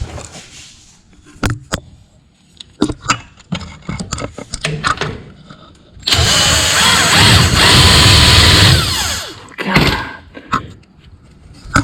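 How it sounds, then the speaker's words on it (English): Impact wrench working on a stuck bolt on a car, a loud sustained rattling burst of about three seconds midway, surrounded by scattered clanks and knocks of tools and parts. "Wonder if it'll unthread with the impact now."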